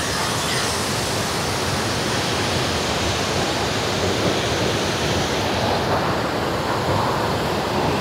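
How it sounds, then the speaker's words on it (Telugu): Water pours strongly out of a village pond in a continuous rushing roar, loud and close, with no voices. "మొత్తం వాటర్ అయితే ఫుల్గా ఫ్లో అయితే వెళ్ళిపోతున్నాయి చూడండి"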